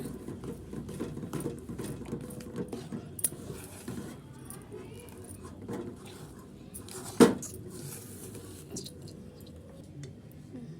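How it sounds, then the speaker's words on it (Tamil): A gram flour mixture is stirred in a pan, giving soft, steady scraping and patter with one sharp metallic clink partway through, while a quiet voice talks underneath. "கட்டி கட்டியாகாமல் நல்லா கைவிடாமல் கலக்கிக்கிட்டே இருங்க"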